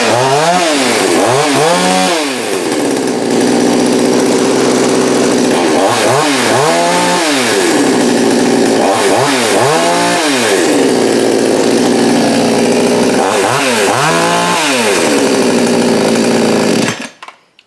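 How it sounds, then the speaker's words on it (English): A JonCutter G5800 chainsaw runs loud and close for about seventeen seconds. It revs up and down in repeated surges over a steady high idle, then cuts off abruptly at the end. "We have chainsaw."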